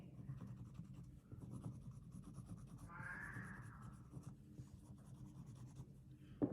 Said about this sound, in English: we bring the pencil down here